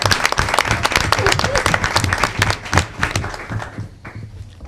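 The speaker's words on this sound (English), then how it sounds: "Let's give all our student reps another round of applause, please." Board meeting audience applauding student representatives in a school district hall, dense clapping from a crowd nearby that gradually thins and fades, with faint murmurs.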